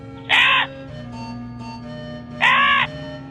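A crow in a children's story gives two loud, harsh caws, each about a third of a second long and spaced roughly two seconds apart, over a faint steady background hum.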